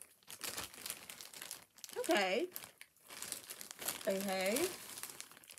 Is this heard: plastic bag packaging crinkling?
yes